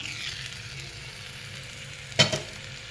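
A fasting dosa fries in a little oil in a covered pan, giving a steady, soft sizzle throughout, with one brief louder clatter near the end and no talk.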